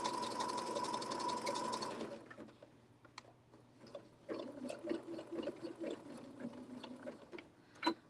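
A sewing machine zigzag-stitches fabric pieces together, running fast and steady for about two seconds, then pausing and restarting in shorter, uneven bursts with light clicks and some handling noise.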